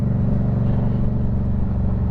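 A Yamaha MT-07 motorcycle on the road, its engine a steady, loud, low rumble throughout the short stretch while riding, with no talk.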